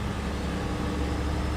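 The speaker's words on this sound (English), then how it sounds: "they did an amazing job with the engine sounds. That turbo, it's got an amazing whine to it." A heavy truck engine from the Jon Ruda 379/389 mod in American Truck Simulator drones at highway speed with turbo whine, a dense, steady, loud roar with no break and no talk.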